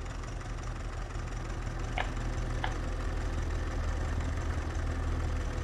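An Ursus tractor with a Polish-built engine idles in Farming Simulator 19 with a steady low rumble, and two faint clicks break through midway.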